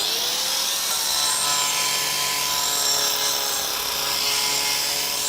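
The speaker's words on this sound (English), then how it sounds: "The woodcarver runs absolutely free in your hand." Kaindl Woodcarver Gold 115 mm shaping blade on an angle grinder carves into wood, giving a sustained high-pitched whirring rasp that rises and falls slightly as the cut moves, with no talk.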